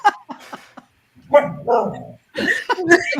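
A long-haired Chihuahua lets out sharp, close yips and barks in uneven bursts, with a whiny vocal stretch between them.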